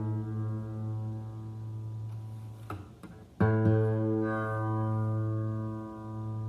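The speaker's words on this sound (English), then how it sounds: "we're going to tune it up so they're in unison and you don't hear that warble anymore" A sustained guitar note rings with a slow wavering beat from two strings slightly out of tune, then another string is plucked and the two tones ring steadily together in unison.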